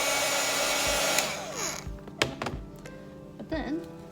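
A hair dryer runs over an ink painting, a steady blowing whoosh for the first second or so, then cutting off, followed by a few thumps and handling knocks.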